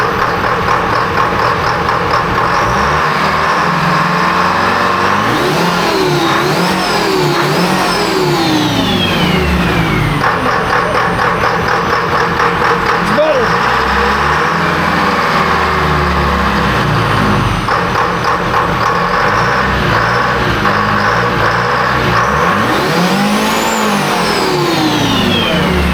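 Electronic-injected Detroit Diesel 453 engine loaded on a dyno, revving hard and continuously with rising and falling pitch sweeps, loud and close, no talking.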